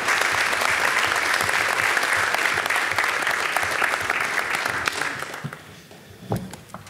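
Audience applause at a community council meeting, a thick even round of clapping that fades out over the last couple of seconds, leaving a few scattered claps and room noise.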